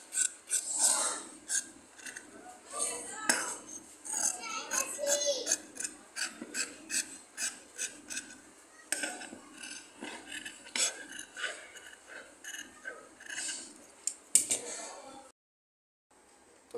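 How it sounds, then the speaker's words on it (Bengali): Scissors snipping through the fabric collar of a yellow and black garment with piping at a tailor's table, a close series of crisp rasping cuts in uneven rhythm, fairly quiet, ending in a brief silence. "এই যে গলাটা আমরা এখন কাটিং করে নেব।"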